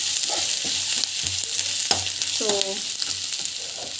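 Turmeric powder being sautéed and stirred in a hot pan, a steady close sizzle broken by repeated scraping strokes of a spoon against the pan.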